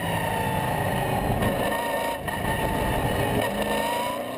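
Race cars, including an Aston Martin and a Volvo, racing at the Zolder circuit, a loud continuous engine roar with shifting revs as cars pass close by.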